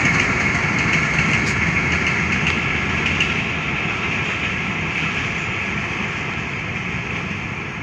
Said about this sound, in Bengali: সকাল সকাল বাড়ির পাশ দিয়ে ট্রেন যায়, তো ট্রেনটা চলে গেল